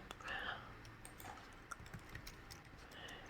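Quick keystrokes on a computer keyboard while typing in a username, a faint, fast run of light clicks and taps at close range.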